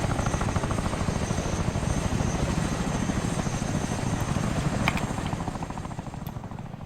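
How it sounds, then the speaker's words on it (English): A helicopter hovers in the ARMA 3 video game, its rotor thumping in a fast, steady chop with a whining engine layered over it, fairly loud and even throughout before easing slightly at the end, with no speech. "The helicopter will just stand by here now."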